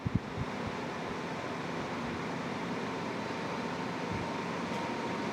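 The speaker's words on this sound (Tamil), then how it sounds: "இந்த அளவுக்கு சவுண்டு நமக்கு இந்த ஏசிலேருந்து வருது" An air conditioner runs in a steady, even whir with a soft airy hiss, continuous and moderately close, with a couple of faint knocks at the very start and no voices.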